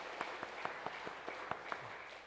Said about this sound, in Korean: 말씀을 주신 선교사님께 큰 힘내시라 우리 박수 부탁드리겠습니다